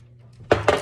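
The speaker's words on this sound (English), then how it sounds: "I'm gonna bring my pan over." A baking pan is set down on a kitchen counter, giving two sharp metallic clanks in quick succession close by, after a faint low hum.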